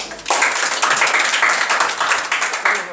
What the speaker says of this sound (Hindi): वेरी गुड, जोरदार तालियां एक बार।